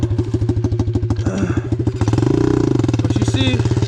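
An Apollo 125cc motorcycle engine, not fully warmed up, thumps loudly and steadily while riding, its rapid pulses quickening partway through as a rider talks over it.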